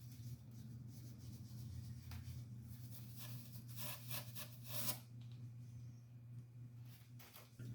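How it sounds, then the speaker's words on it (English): A cloth rubs wax into the wood of a kit-built guitar, making soft, faint, repeated swishing strokes over a low steady hum, with a few brighter scrapes in the middle. "then gently start to rub the wax in"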